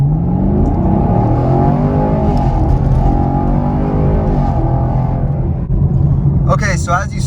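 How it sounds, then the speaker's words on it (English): A 2021 Chevrolet Camaro LT1 launches and accelerates hard from 0 to 60 on a rough road in tour mode with traction control on, its engine note climbing steadily through the gears, loud and close from inside the car. "So let's go find a nice little open road and check out this vehicle 0 to 60"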